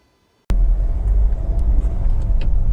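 A 5-door Honda Civic 1.6 i-DTEC EX diesel engine starts abruptly after half a second of silence and settles into a loud, deep, steady low rumble.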